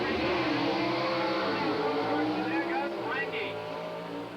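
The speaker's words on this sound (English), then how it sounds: "The Manchester Firebird starting to make it up, but it's Iaconio with a 786 at 175 miles per hour" Drag race cars roar down the strip at the 1983 Englishtown Springnationals, a sustained engine howl heard from a distance with an announcer talking over it throughout.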